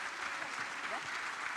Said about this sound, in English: Let's give them the big round of applause.